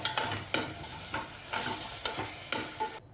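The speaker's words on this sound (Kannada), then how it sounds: "ಅಕ್ಕಿ ಹಾಕೊಂಡಾದ್ಮೇಲೆ ಮಿಕ್ಸ್ ಇದ್ದೀನಿ" Rice is stirred in a hot pan for jeera rice, a spoon scraping in a series of rhythmic strokes over a soft frying sizzle, close and alone.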